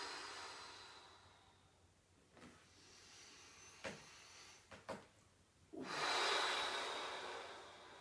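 A person inhales during a self-administered osteopathic neck-pain exercise, ending in a long, loud, close breath in, preceded by a few short faint sniffs and rustles in a quiet room.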